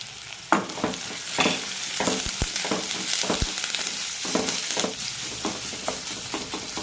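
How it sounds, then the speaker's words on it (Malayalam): Onion, curry leaves and ginger with fenugreek seeds sautéing in hot oil for a fish mango curry, a steady close sizzle broken by repeated sharp scrapes and knocks of a spoon stirring the pan. "സവാള ചെറുതായി ചോക്കുന്നവരെ വഴറ്റിയെടുക്കാം."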